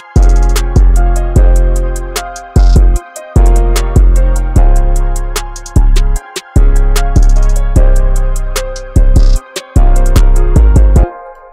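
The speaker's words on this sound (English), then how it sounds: "Basically just a snare that plays on the off keys of where the actual other clap is playing." A trap beat with an offset snare falling between the main claps, built from punchy booming kicks and crisp snare and clap hits in a loud, syncopated groove with brief gaps of silence between phrases.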